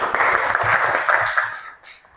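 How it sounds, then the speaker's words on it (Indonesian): A classroom of students gives a short burst of applause, brisk clapping that holds for over a second and a half before tapering off. "Tepuk tangan."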